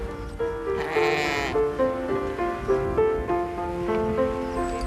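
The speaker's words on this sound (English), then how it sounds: "But the stars of the show are the new baby lambs." Several young lambs, six and a half weeks old, bleat repeatedly at close range in a steady series of loud, wavering calls, with no talking.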